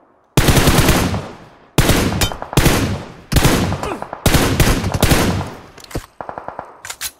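Automatic weapon fire in PUBG Mobile rips out in loud, rapid bursts, several sprays separated by brief pauses, ending in a few sharper single shots.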